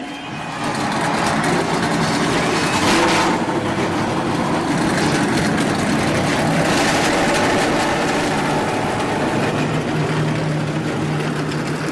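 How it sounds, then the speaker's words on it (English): NASCAR Camping World Truck Series race trucks at Las Vegas, engines just fired up and idling together in a loud, steady, broadband rumble that holds throughout without pause. "The engines have been fired up in the truck."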